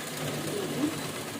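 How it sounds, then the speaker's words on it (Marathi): A sewing machine stitches a folded old towel in a steady, continuous motorized whir, close and fairly loud for a brief stretch, with no talking. "म्हणजे काय होईल एकसारखं फोल्ड करायचं, शिलाई करून"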